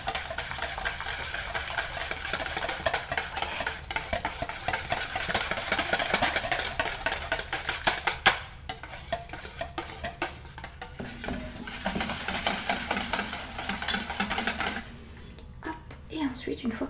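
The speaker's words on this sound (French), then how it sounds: "j'en étais à mélanger, fouetter ces œufs et ce sucre afin que ça blanchisse un petit peu" Hand whisking of eggs and sugar in a bowl, a steady vigorous scraping and beating that runs nearly throughout, close and fairly loud, pausing briefly near the end.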